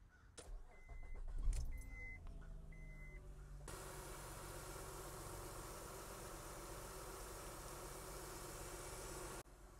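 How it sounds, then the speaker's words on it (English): A Honda Ridgeline pickup truck: keys jangle and a few short beeps sound, then the engine cranks and catches, settling into a steady, close idle for several seconds before cutting off abruptly. "I'll just start the truck again"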